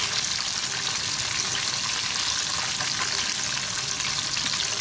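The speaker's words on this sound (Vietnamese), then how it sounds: "Còn con rưỡi cô nữa, mới chiên hai con rưỡi." Crabs frying in a pan, a dense, continuous sizzle and crackle of hot oil held at a steady, fairly loud level from start to finish, close up and with no talking.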